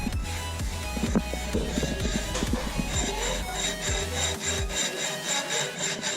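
Hand sawing through a metal rod in a garage with helpers around, rapid rhythmic rasping strokes close by, steady and loud until the cut finishes.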